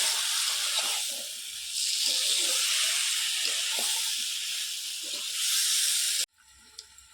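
Spice masala cooking in oil, a loud continuous hissing sizzle with occasional stirring knocks, cut off abruptly near the end into near quiet.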